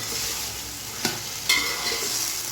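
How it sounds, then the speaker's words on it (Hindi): Vegetables for a green-chili pulao fry in hot oil with a steady close sizzle, broken by two brief stirring scrapes partway through. "आपने थोड़ा सा भून लेना है।"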